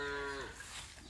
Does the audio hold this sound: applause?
no